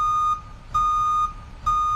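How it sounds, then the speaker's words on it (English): A vehicle warning beeper in the truck simulation game Rigs of Rods sounds three loud, steady electronic tones in a slow on-off pattern, each about half a second long, over a low engine hum. "It is beeping."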